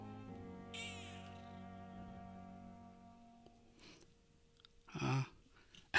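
A cat meows in short, close calls, with soft game music and tones drifting underneath and a couple of brief louder bursts later.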